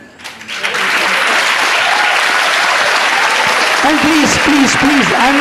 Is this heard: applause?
yes